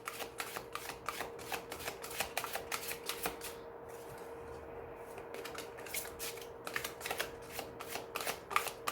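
Oracle cards shuffled for a tarot-style general reading, a quiet run of rapid papery riffles and flicks with a brief pause midway, then more bursts of shuffling, all close and soft with no talk.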